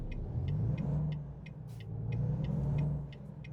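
Road traffic in the trucking game American Truck Simulator: a steady low engine rumble rises and falls as vehicles pass, with a faint, regular ticking throughout and no speech.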